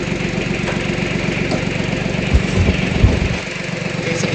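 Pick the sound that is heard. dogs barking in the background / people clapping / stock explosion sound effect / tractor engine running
tractor engine running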